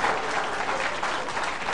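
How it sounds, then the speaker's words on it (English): A large audience applauds steadily and loudly for a family member introduced at a word-puzzle game show, the dense clapping filling the whole stretch without letup. "Big round of applause for now my mom."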